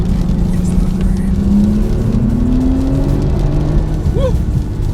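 A 2015 Porsche 911 Turbo S accelerates on a wet road, a loud rising engine drone heard from inside the car with a steady roar of tyre and road noise beneath it.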